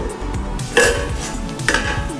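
A plate is set over a pot of simmering sambar, giving two clear metallic clinks about a second apart over a low bubbling, kitchen background.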